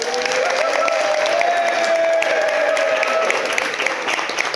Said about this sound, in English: Big round of applause for the bridesmaids.